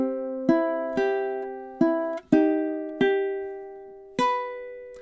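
A ukulele plucks a slow melody measure, seven bright single notes each ringing and decaying before the next, close and clear with no talking.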